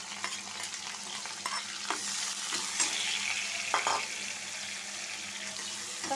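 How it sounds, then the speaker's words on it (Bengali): Green chillies and chopped onion fry in a hot wok, a steady sizzle under occasional stirring scrapes and clinks, fairly quiet throughout. "কাঁচামরিচ আর পেঁয়াজ কুচি ভাজা হোক"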